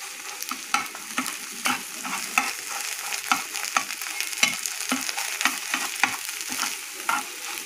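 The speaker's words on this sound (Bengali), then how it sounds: "সেই ভাতটাকে এইভাবে একটু ফ্রাই করে নেবেন" Leftover cooked rice sizzles in a hot pan while a spoon stirs it, sharp scraping clicks repeating every half second or so over a steady crackling fry, close and clear with no talking.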